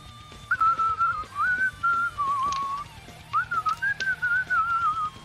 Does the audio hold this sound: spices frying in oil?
no